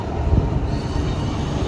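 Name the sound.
train 15234 arriving at station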